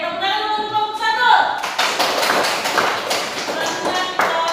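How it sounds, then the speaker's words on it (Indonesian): Classroom applause for a student group during a lesson, a burst of clapping that follows a voice and carries on with scattered claps and chatter underneath. "tepuk tangan untuk kelompok 1"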